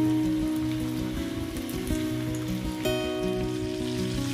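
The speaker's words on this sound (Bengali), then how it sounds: "তেলটা ভালো মতো গরম হয়ে এলে আমি ওর মধ্যে একে একে বানিয়ে রাখা চিকেনগুলোকে ছেড়ে দেব।" Chicken pieces for KFC-style chicken popcorn dropped into hot white oil and frying steadily, a continuous dense sizzle and crackle with a few sharper pops, close and even throughout with no talking.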